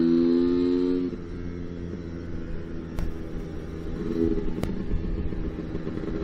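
A Lambretta scooter with a BGM Clubman Sport kit pulls in third gear with a steady engine drone and a low rumble. It holds an even note with a slight rise in pitch as it accelerates, fairly close, and no one speaks.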